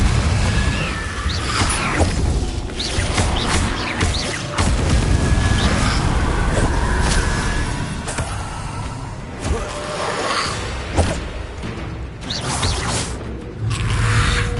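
Repeated Confringo fire-spell explosions burst amid whooshes, mechanical clatter and crashes during dense, continuous Hogwarts Legacy combat, with loud hits scattered across the stretch.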